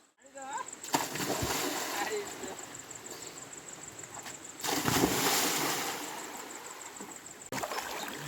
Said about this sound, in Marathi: आता मी पण पाणी उडी मारत आहे